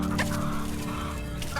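Chickens cluck continuously at a backyard coop, several hens close by with steady overlapping clucks and a constant low hum underneath, no talking.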